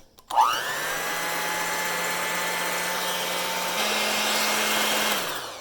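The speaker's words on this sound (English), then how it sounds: "So first I'm going to whisk it a little bit" Chocolate chip pancake batter is whisked in a bowl with a motorized whisk that whirs up sharply, holds a steady loud hum, steps up a little in pitch, then winds down.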